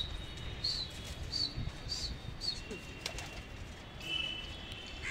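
Pigeons outdoors give soft, intermittent coos and a few brief chirps over a steady background hum, with no talking.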